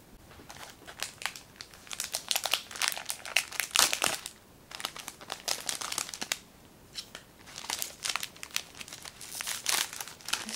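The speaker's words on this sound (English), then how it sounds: "It's just normal wrapping tissue paper." Ordinary wrapping tissue paper is crumpled close up, giving bursts of crisp crinkling that come and go in uneven waves, with short quiet gaps between handlings.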